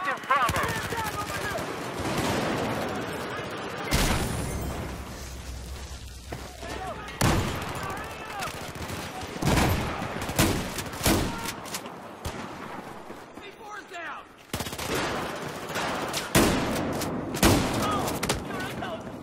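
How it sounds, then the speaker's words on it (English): Shotgun blasts and surrounding gunfire in Battlefield 4, with a Remington 870 MCS pump shotgun firing buckshot, sharp loud booms in irregular bursts amid game effects and players talking over it. "Everyone's using a shotgun."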